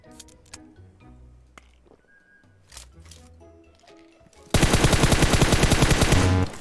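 Rapid gunfire in a PUBG battle royale video game, a loud, sustained burst of closely spaced shots after a stretch of quieter clicks and game sounds.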